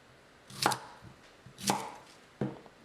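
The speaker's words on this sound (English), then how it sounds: "First we chop big chunks." A knife chops radish into big chunks on a cutting board, three separate sharp thuds spaced about a second apart, close and clear with quiet between them.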